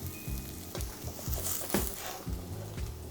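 Onions and mushrooms frying in butter in a pan, with a steady close sizzle and periodic bursts of stirring or scraping through the three seconds.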